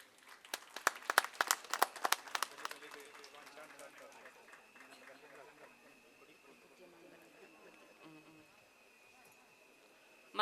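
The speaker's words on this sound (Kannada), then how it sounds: "ಪ್ಲೀಸ್ ಚಪ್ಪಾಳೆ ಬರಡು." Applause from an audience at a community get-together, greeting people called up to the stage: a dense burst of clapping for about three seconds, then thinning and fading into a steady tone and murmuring voices.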